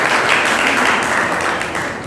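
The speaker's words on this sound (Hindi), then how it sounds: "जोरदार तालियों से" Loud audience applause at a road safety quiz competition, a dense steady wash of clapping that fills the whole stretch without a break.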